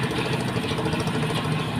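A fishing boat's engine rumbles at a steady, even idle, loud and close, with no clear start-up surge and no voices over it.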